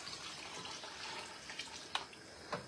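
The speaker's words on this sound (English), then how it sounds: "I'm gonna add a little more water." Water is poured into a pot of lasagna soup on a stove, a soft running, splashing stream with a few sharper drips and clinks near the end, heard close and without speech.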